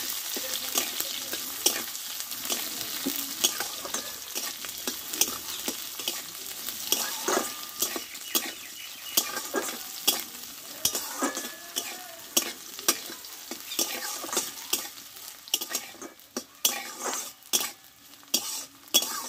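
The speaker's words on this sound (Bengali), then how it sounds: "পেঁয়াজটা ভালোভাবে একটু আমি ভেজে নেব" Onions frying loudly in a pan for a small-potato dish, a constant close sizzle broken by repeated scraping and clinking as a utensil stirs them.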